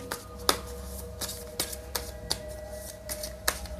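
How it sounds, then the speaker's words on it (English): A deck of Tarot of the Haunted House cards is shuffled by hand, giving a string of crisp snaps and riffles at uneven intervals over soft handling noise, close and fairly loud. "I will shuffle your tarot cards by one."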